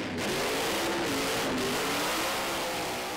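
A 3,000-horsepower Corvette drag car at Santa Pod revs its engine, a loud, dense, sustained roar filling the whole clip with no talk over it.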